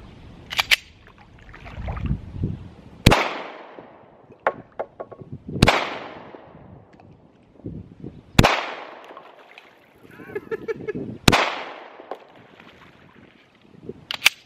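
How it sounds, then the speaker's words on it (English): A .40 caliber Glock 23 pistol fires full metal jacket rounds into bowling pins, five sharp, loud gunshots spaced a few seconds apart, with quieter handling noises in the gaps. "Let's try shooting it with the 40 caliber, Glock 23."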